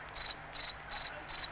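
A cricket chirping sound effect, four evenly spaced bursts of rapid high trills, each made of several quick pulses, fairly faint over a quiet background.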